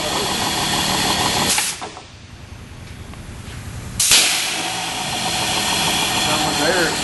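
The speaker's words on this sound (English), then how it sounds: "Looks like a monster air motor." Air motor on a 5 ton cable hoist running with a loud rough roar, cutting out briefly and then bursting back in with a sharp rush of exhausting air.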